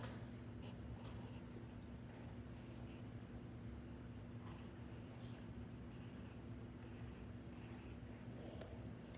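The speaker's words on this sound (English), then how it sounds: "And you're going to write Rebecca" A pen or pencil writes on paper, with a steady scratchy rubbing in short strokes, close and quiet over a low hum, and no talking.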